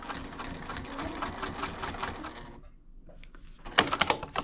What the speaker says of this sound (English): Now I backstitch a little bit at the beginning and the end